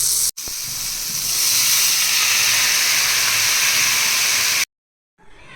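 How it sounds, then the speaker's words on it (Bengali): Ridge gourd frying in a pan makes a loud, close, hissing sizzle that holds steady for several seconds before it cuts off abruptly. "আমার ঝিঙে প্রায় ভাজা হয়ে গেছে, আর এবার আমি দিয়ে দেবো এর মধ্যে পোস্ত।"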